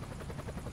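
Helicopter in the Emergency firefighting game at a hospital call-out, a steady broadband rotor drone that holds at an even level throughout, with no talk over it.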